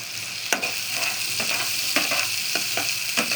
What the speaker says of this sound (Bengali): আগে তেল দিয়ে দিয়েছি, পেঁয়াজ দিয়ে দিলাম